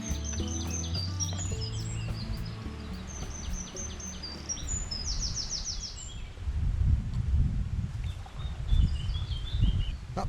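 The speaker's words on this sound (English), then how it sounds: "That blackbird's quite vocal" A blackbird sings beside a canal, with clear, varied whistled phrases near the start and fainter ones later, over low rumbling and water noise from kayaks.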